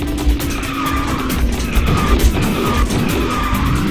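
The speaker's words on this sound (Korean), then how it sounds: "굉장히 기술 연타 드리프트 이런 걸 많이 썼었죠" A kart drifts in the racing video game KartRider, with loud, continuous tire squeal and skidding over a steady engine roar, all close and unbroken.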